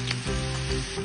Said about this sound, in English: Now we're gonna deep fry at about 350 degrees.